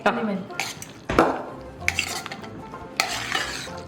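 Cut mango is mixed into curd rice in a bowl, heard as close, repeated scraping and clinking of a spoon against the dish in uneven bursts.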